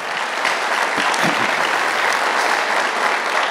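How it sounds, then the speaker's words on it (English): A church congregation breaks into steady, dense applause during a Sunday service, the sustained clapping filling the room evenly from start to finish with no speech over it. "And you're so eager to clap"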